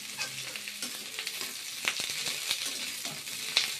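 Panch phoron spices crackle and sizzle in hot oil in a wok, with scattered sharp pops over a soft frying hiss and a stirring scrape now and then.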